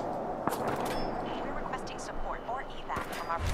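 Sniper rifle shots fired in the video game Fallout 4, heard as a couple of sharp, brief reports under continuous talking.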